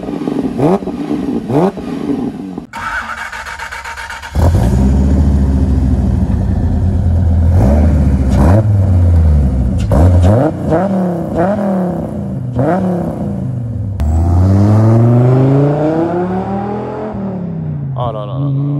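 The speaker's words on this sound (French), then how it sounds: "Le son du V10, on s'en lasse tellement pas." A Dodge Viper V10 sports car engine revs hard repeatedly, rising and falling in pitch with loud roaring bursts, close by and dominating throughout.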